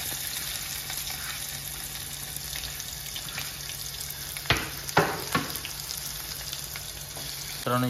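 Chopped onion, bay leaf and whole spices frying in hot oil for egg masala, a loud continuous sizzle with a few sharp utensil knocks against the pan midway.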